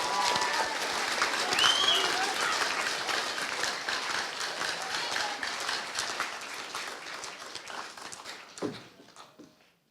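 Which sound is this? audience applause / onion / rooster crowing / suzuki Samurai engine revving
audience applause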